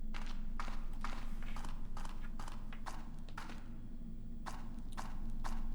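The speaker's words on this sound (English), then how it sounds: "That is a horse." Horse hooves clip-clop steadily through a video game puzzle, a run of sharp, evenly spaced hoof strikes over a constant low droning background.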